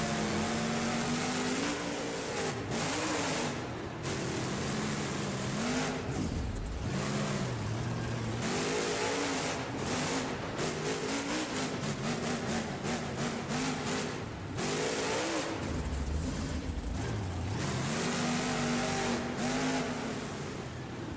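Stabilizer monster truck engine in BeamNG at a 2009 Monster Jam stadium event in Atlanta roars loud and continuous for the whole run, rising and falling with repeated revving bursts and gear changes, no talk.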